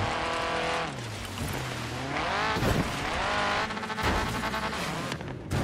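A car in the racing video game Forza Horizon 3 on PC, its engine revving and shifting pitch while tires squeal and skid loudly and continuously, with no talking.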